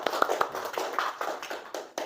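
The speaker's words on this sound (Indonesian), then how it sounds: "Beri tepuk tangan untuk kita semua." A class claps hands together, quick uneven applause at close range for about two seconds with no talking.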